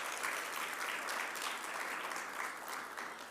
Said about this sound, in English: So can we give CLICO Credit Union a round of applause,